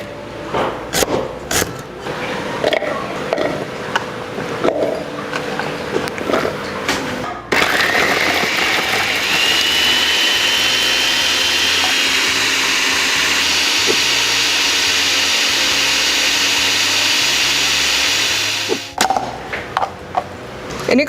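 A blender grinds rendang spice paste with coconut oil in a steady, loud whirring run of about eleven seconds, with kitchen clatter and handling before and after.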